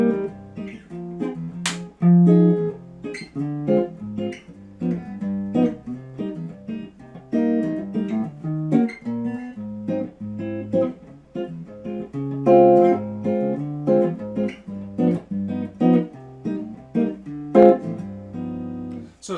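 A guitar plays a Latin jazz tune, with strummed chords and melodic lines in a relaxed bossa rhythm, clear and close, with no talking.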